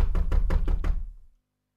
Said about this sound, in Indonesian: Ada yang ketokin.